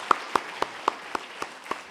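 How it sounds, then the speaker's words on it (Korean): A church congregation at a Friday evening service claps for the Awana children: seven sharp, evenly spaced claps in unison, close and crisp, with no talking. "박수."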